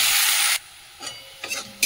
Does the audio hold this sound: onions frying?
yes